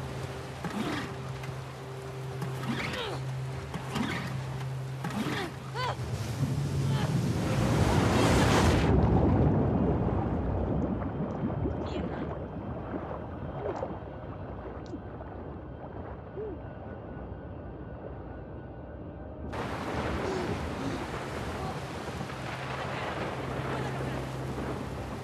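Open-sea waves wash and surge with wind in The Last of Us Part II, a steady roar that swells louder midway and drops briefly before returning, with possible boat motion faint underneath.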